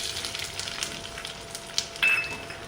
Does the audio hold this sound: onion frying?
yes